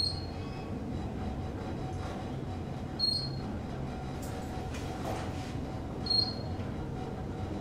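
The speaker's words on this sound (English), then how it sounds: "You can tell this has an Otis motor because the way it stops." An Otis traction elevator with a Kone modernization, in a Saks Fifth Avenue store in downtown Chicago, gives off a steady low motor rumble as it runs. Faint high chimes or squeals recur about every three seconds.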